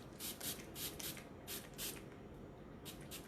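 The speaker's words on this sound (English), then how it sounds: "I'll spray it to make it bleed" A spray bottle spritzes a glycerin mixture in a quick series of short, airy bursts, close by and fairly quiet, with no one talking.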